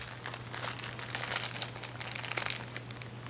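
Plastic packaging of a Fisher-Price Wheelies Loops 'n Swoops amusement park toy crinkles and crackles close by as someone tries to pull it open, a steady run of rustles over a low hum.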